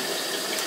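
Tap water gushing into a bath, a steady, close hissing rush that fills the whole moment without a break.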